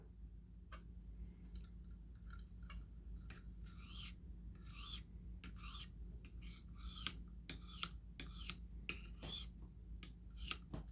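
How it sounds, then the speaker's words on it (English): A recurve knife blade drawn along a stone in a KME sharpening system to remove the burr, giving a series of short, fairly quiet rasping strokes in uneven rhythm over a low steady background hum. "We flip it over and get the burr off"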